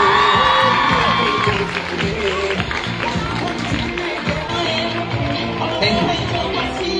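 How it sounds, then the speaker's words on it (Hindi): A crowd at an academy award and prize distribution ceremony claps and cheers loudly, with dense rapid clapping, whoops and shouting voices mixed throughout. "इस भाई के लिए इतनी जोरदार ताली बजे"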